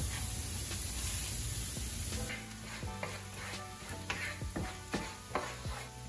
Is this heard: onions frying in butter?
yes